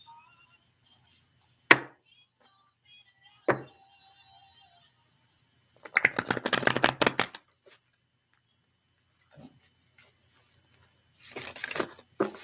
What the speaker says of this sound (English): did I shuffle that good?